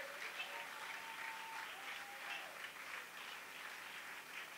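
A congregation claps together in sustained, steady applause that stays fairly faint and distant for the whole stretch, with a few voices mixed faintly into the crowd.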